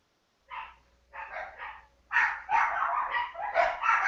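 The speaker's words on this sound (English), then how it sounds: "I hear doggy." Dogs barking in several sharp bursts, first short separate yaps then a denser run of overlapping barks, loud and close with no talk.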